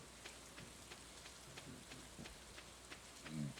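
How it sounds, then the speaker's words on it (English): Steady light rain falling in the Stardew Valley farming game, a soft continuous patter with scattered drop taps and a faint low rumble near the end, heard alone with no talk. "it was raining over here"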